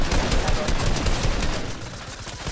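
Rapid bursts of gunfire from a Fortnite match crackle almost continuously, loud and dense, like a sustained firefight at close range.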